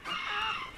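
A chicken calls out in a farm coop setting, one short loud squawk that rises and falls quickly, close by and alone.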